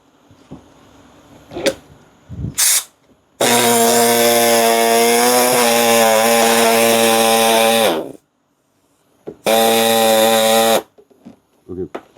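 A power tool with a flexible, bending blade cuts an opening in a car trunk panel, running in two long, loud buzzing bursts that stop abruptly, with short knocks and handling noises between them.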